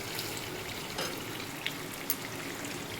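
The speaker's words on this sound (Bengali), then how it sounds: "মাংসটা কষানো হয়ে গেছে, এবার জল দিয়ে দেবো।" Water runs into a pan of browned, fried meat with potatoes in a home kitchen, a steady soft pouring wash with a couple of faint clinks, close and without talk.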